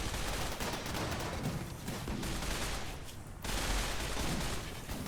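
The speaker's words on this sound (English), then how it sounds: "Hunter's turn for the old micro missile" Micro missile fired in a Rimworld battle: a dense, continuous roar of rapid blasts, loud throughout, briefly dipping near the middle before surging again.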